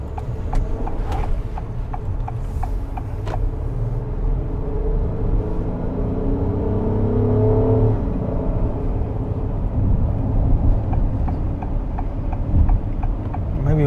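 2022 Acura MDX SUV with a 10-speed automatic driving in afternoon traffic, a steady low road and engine rumble from inside the cabin, with repeated ticking clicks early and late and a brief rising whir midway.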